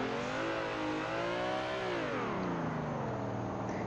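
A car engine in the Assetto Corsa racing game revs steadily while drifting donuts, its tone rising and falling with throttle modulation and holding a sustained, close, continuous drone.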